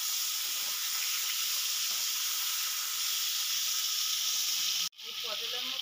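Pointed gourd (potol) pieces sizzle steadily in hot oil, a loud continuous hiss that briefly cuts out near the end before resuming more softly.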